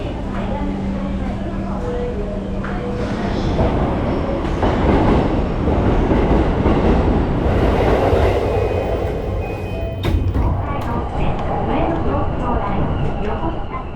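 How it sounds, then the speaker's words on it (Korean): Yamanote Line commuter train in Tokyo, heard from inside the car as a steady loud rumble and rolling wheel noise lasting throughout, with a voice or announcement faintly over it. "다시 시부야역으로 돌아가 에비스역 방면으로 가는 야마노테선에 탑승합니다."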